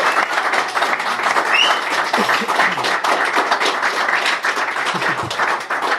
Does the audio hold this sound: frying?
no